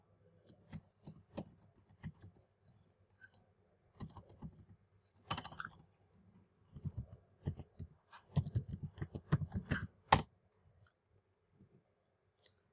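Quiet, rapid typing on a computer keyboard as an email address and password are entered, with uneven bursts of light key clicks and brief pauses between them.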